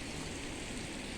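Storm wind rushes over a mountain camp on the night climb to Puncak Mega, a steady broadband roar that holds continuously with no breaks.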